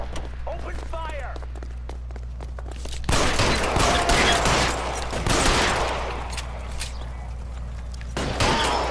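Rapid gunfire from the video game L.A. Noire breaks out in dense, loud bursts of shots over a low droning background, with faint footsteps and brief voices mixed in.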